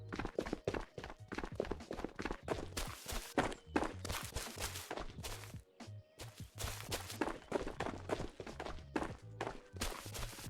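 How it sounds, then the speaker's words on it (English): Footsteps in Ghosts of Tabor, a rapid run of heavy thudding steps on hard ground, close and fairly loud, with a few sharper impacts and no talk. "I just heard footsteps."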